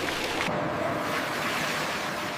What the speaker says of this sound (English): High-pressure streams ensure every surface is reached and scrubbed clean.